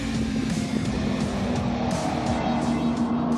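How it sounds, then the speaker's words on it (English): A road-legal Harper Type 6 turbocharged V8 race car roars past at speed on a straight, a loud continuous engine drone with a steady whine throughout. "Here he comes now. V8 turbocharged."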